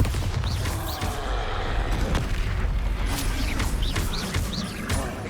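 Bombarda explosion spells cast in Hogwarts Legacy, deep booming blasts with rumbling low end amid a dense, continuous battle din.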